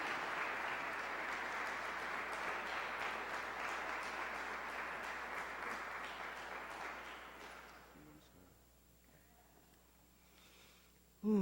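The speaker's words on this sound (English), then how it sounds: "Please give them both a round of applause" Audience applause at a Ministry of Love gathering, steady broadband clapping from a crowd for about eight seconds that fades out into near silence, followed by a brief voice at the very end.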